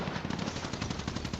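Rapid automatic gunfire from an online shooter match rattles in a fast continuous burst, bright and close, with no talk over it.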